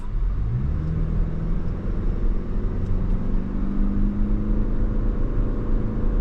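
A 2026 Toyota Crown Nightshade pulls away under acceleration, its engine note rising in a steady, fairly loud rumble with tire and road noise, heard from inside or close by with no talking.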